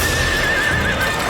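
A startled horse whinnies in a thin, wavering cry above a dense, noisy rush of water and movement as horses wade belly-deep in a river.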